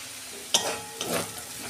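Vegetables and potatoes fry in a pan for semolina upma, giving a brief close sizzle with a sharp stir or scrape near the start and a second softer burst, no talking.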